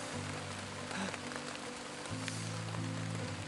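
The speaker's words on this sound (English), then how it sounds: "In the wonderful rain." Rain falling outdoors during a multi-day adventure race in Alaska, a steady close hiss of drops spattering on surfaces, mixed with a low continuous hum throughout.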